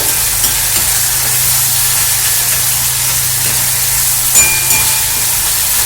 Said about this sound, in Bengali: এখন মশলাটা কিন্তু সুন্দর কষা হয়ে গেছে।